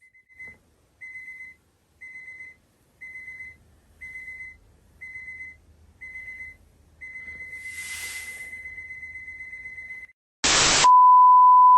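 An alarm clock sounds in a bedroom: eight short evenly spaced beeps, then a continuous tone, a brief burst of noise, and a steady higher tone at the end, all fairly loud and with no one speaking.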